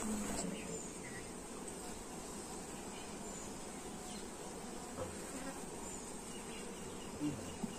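Faint, steady buzzing of honey bees around a hive box during honey collection in the Sundarbans, a soft continuous drone with occasional louder passes close by.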